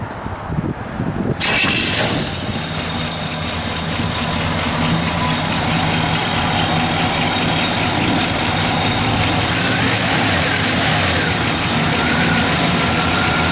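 A 1966 Chevrolet Impala SS engine catches and settles into a steady idle, a continuous low rumble with a faint mechanical whir, heard up close and fairly loud without talk.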